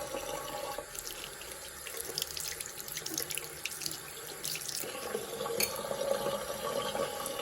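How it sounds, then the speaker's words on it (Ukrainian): Steady running water from a tap pouring into a sink, a continuous splashing hiss with faint clinks, no talking. "чути вода стікає"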